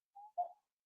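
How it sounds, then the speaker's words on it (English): A referee's whistle at an ice hockey game gives two short, faint blasts, the second slightly stronger, followed by silence. "And we're going to get a whistle."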